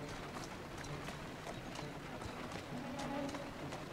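Horse hooves clip-clop in the video game Assassin's Creed Syndicate: a steady run of soft hoof beats over a constant background bed, moderately loud and without a break.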